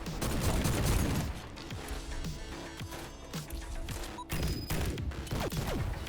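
A shotgun fires repeatedly in the video game GTTOD: Get To The Orange Door. Loud, punchy blasts come in a rapid, uneven string, mixed with crashing impacts and mechanical clatter throughout.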